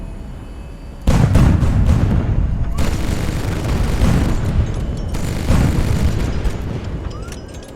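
Machine gun fire strikes a ship in the HighFleet naval combat game, a loud rumbling barrage of booming impacts that starts abruptly and rolls on continuously, swelling again before fading slightly.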